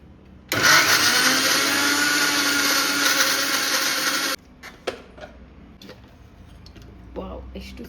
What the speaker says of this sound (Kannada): ಈಗ ಇದನ್ನು ವಿತೌಟ್ ವಾಟರ್ ಗ್ರೈಂಡ್ ಮಾಡ್ಕೊಳ್ಳೋಣ.